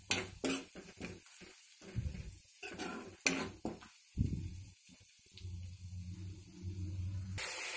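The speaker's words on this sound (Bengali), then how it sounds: "এবার এতে আপনি চিনি বাদামটা ঢেলে দেবেন সঙ্গে মিশিয়ে নাড়তে থাকুন সামান্য" Peanuts frying in a pan as they are stirred, with scattered scraping and clinking strokes over a soft sizzle, fairly quiet and close, without speech.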